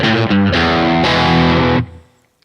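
A Strat-Thru electric guitar on its bridge pickup, played through heavy distortion: one loud, thick, sustained chord rings for about two seconds, then cuts off quickly into near silence.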